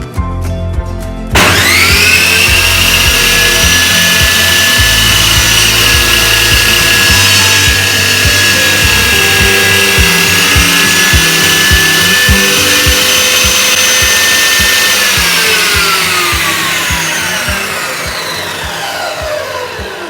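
Ryu RTS 10 table saw with its blade tilted to 45 degrees cross cutting a 3 cm wooden board: a loud close whine that spins up sharply, holds steady through the cut, then slowly winds down.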